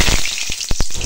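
Bay leaves hitting hot oil in a pan, a loud close frying crackle with a few sharp pops over about a second.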